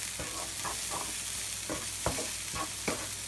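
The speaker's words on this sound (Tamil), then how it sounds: "நல்லா இந்த மாதிரி போட்டு எல்லாம் மிக்ஸ் ஆகிற நல்லா வதக்குங்க." Garlic, green chilli and spring onion sautéed in a pan for Cauliflower Manchurian give a steady loud sizzle, punctuated by a rhythmic series of spatula scrapes and stirring knocks.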